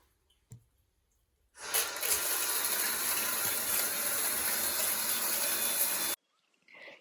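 Shower water runs in a steady, loud broadband rush for about four and a half seconds, starting abruptly after a faint knock and stopping suddenly, with a quiet room before and after.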